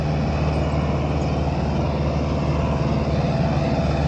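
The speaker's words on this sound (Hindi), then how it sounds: "ट्रैक्टर काफी स्पीड से खींच रहा है" A Powertrac Euro 55 tractor on 16.9-28 Apollo tyres pulls hard under load, its engine a steady, loud, continuous drone with no pauses and no voices.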